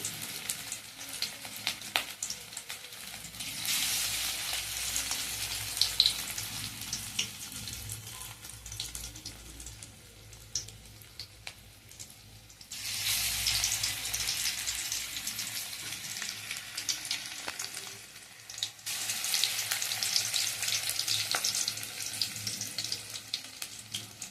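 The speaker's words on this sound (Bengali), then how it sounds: "এবারে আমি বড়াগুলোকে উল্টে পাল্টে ভেজে নেব" Gima greens and fish oil fritters frying in hot oil in a wok, a steady soft sizzling hiss that swells and fades as the fritters are turned, with no talking.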